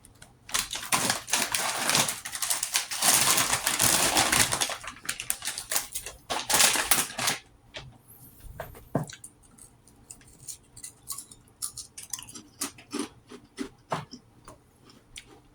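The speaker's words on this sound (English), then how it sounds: "Regular tater chips. Lightly salted. Wavy, great value. Wavy cut." Someone eats wavy-cut, lightly salted potato chips, loud dense crunching close up for several seconds, then quieter scattered bites and crackles.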